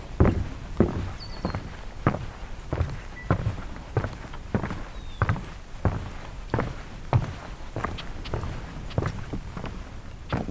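Footsteps walking along a tilted outdoor trail, evenly paced, close thuds about two per second that carry on throughout, with faint birdsong in the background.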